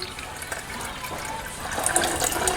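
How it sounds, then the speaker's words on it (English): Water pours steadily into a Smart Planet mac and cheese maker, a continuous close splashing fill that grows slightly louder and fuller toward the end, with no talking. "It says add 3 cups of water, do not overfill"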